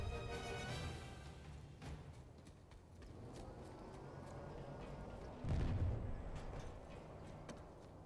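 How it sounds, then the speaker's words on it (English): Gunfire from an enemy lab base in the PlanetSide 2 shooter, muffled distant shots and booms popping irregularly, with one heavier low impact late in the stretch. "the lab's shooting at us"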